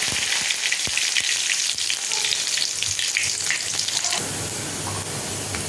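Mustard seeds, shallots, dried chillies and curry leaves sizzle and crackle in hot oil for a Tirunelveli-style paruppu kuzhambu tempering, a steady loud frying hiss with scattered pops.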